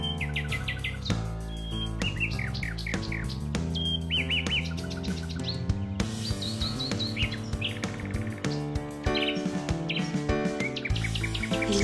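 A small bird chirps and trills in quick repeated phrases over a busy musical background, bright and fairly close.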